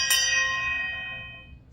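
A single bell is struck once, ringing out clear and bright before its tone slowly fades away.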